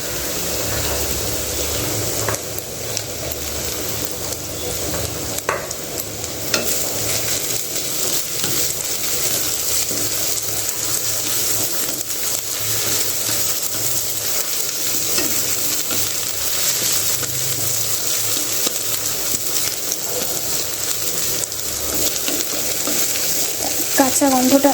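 Garlic sizzles steadily in hot oil in a pan, joined later by crushed ginger, with intermittent stirring scrapes and clinks over a continuous close frying hiss; no talking.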